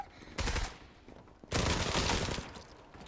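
Two loud bursts of rapid automatic gunfire in a first-person shooter game, close and harsh, separated by a brief pause.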